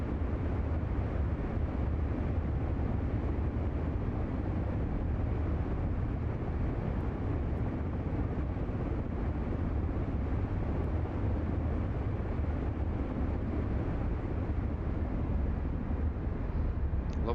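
B-17 bomber engines droning in Microsoft Flight Simulator 2024 during a flight over the Grand Canyon, a loud, continuous, throaty roar with no pauses.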